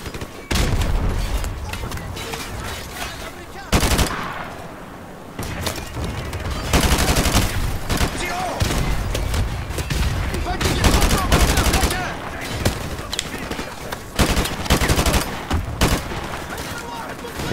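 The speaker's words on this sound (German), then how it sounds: "das hört sich cool an, wie die Schüsse dann so einschlagen" Dense gunfire and bullet impacts from Call of Duty: Modern Warfare Remastered, with loud sustained bursts and volleys of shots nearly throughout, briefly easing, and a voice speaking over the battle.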